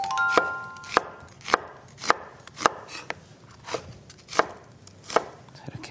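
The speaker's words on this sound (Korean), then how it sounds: "자, 이렇게 썰었어요." A knife chops an onion into roughly 1 cm pieces on a cutting board for kimchi pork duruchigi, with about ten crisp, evenly spaced chops, close and clear, and no talking.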